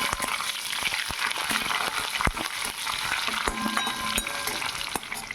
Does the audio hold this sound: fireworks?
no